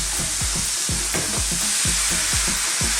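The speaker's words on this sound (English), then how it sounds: "we're actually cooking those powders" Curry powder spices sizzle and fry in a pan for a minced beef keema, with steady loud frying hiss and repeated scraping stirs at a regular rhythm, close up, no talking.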